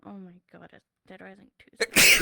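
A loud sneeze bursts out at the end, alone and close, following a stretch of casual talk.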